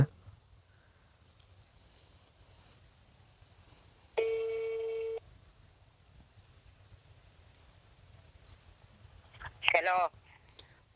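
A phone call rings out to a grandmother: a single steady electronic ring tone of about a second, then a short warbling tone burst, both over quiet, low background noise.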